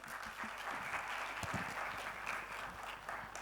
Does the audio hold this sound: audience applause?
yes